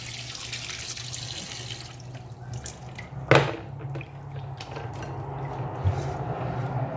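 Small fish, fresh for a paksiw stew, get washed under a running kitchen tap, giving a steady close hiss of flowing water with splashes and one louder slosh partway through and no talking.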